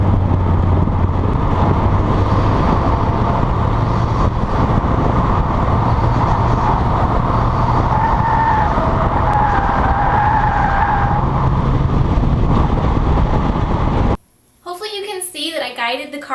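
A car on Michelin Pilot Super Sport tires swings through a very tight 180-degree turn under throttle, with a sustained loud engine drone and tire noise, cut off abruptly near the end by a short burst of talk.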